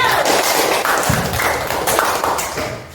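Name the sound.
class applause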